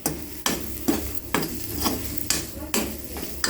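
A spoon stirs spiced potato samosa stuffing seasoned with chaat powder in a pan, making rhythmic scraping strokes about twice a second over a soft, low sizzle.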